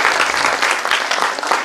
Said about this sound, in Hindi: जोरदार तालियां इनके लिए थी।